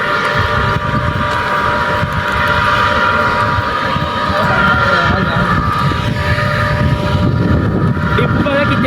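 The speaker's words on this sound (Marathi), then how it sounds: "आवाज बघा मोटरचा नुसता." The motor of an old riverside jackwell pump runs with a loud, steady droning hum and a constant tonal whine, unbroken for the whole stretch.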